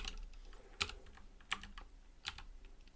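Code is typed on a computer keyboard, with a few sharp, separate key clicks spaced about a second apart against a quiet room.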